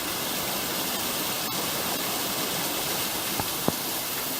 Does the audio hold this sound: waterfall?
yes